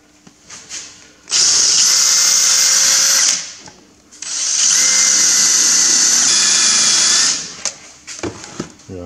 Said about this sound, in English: we'll just drill through the back here